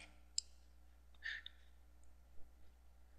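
A computer mouse gives a few faint, isolated clicks in a quiet room, with a low steady hum underneath.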